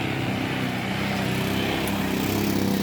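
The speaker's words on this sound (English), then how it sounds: "You see the men feeding the cane into the grinder." A great big mechanical sugar cane grinder at a fall festival runs with a steady low engine drone and rumble, constant and moderately loud, with men feeding cane into it.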